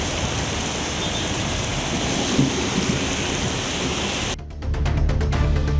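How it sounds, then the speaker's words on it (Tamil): Heavy evening rain with thunder under dark clouds: a loud, dense, continuous roar of downpour with deep rumbling, shifting near the end into a lower, throbbing rumble, and no voices. "மாலையில் திடீரென கருமேகங்கள் சூழ்ந்து சுமார் 30 நிமிடங்கள் இடியுடன் கனமழை பெய்தது"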